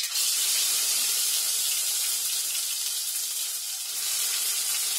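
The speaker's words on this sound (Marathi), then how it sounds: "तेल तापलाय, आता त्याच्यामध्ये जिरं टाकते." Cumin seeds sizzle in hot oil for Konkani-style cooking, a steady, close hiss that fills the clip with no talk.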